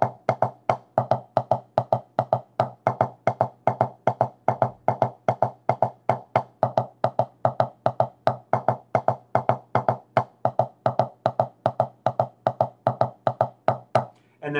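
A 7/8 double-beat drum warm-up exercise, likely on a drum pad or snare, plays as a rapid, even stream of close, crisp strokes in paired groupings that continues steadily throughout.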